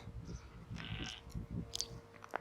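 Sheep bleat faintly in the hills near Loch Earn and a Pictish hill fort, several short distant bleats over outdoor wind noise.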